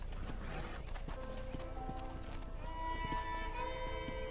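Horse hooves clip-clop steadily at a riding pace in the western video game Red Dead Redemption, with a brief whinny and music-like tones underneath, no talk.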